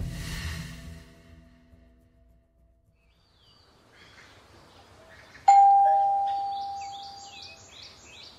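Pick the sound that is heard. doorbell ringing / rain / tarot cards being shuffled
doorbell ringing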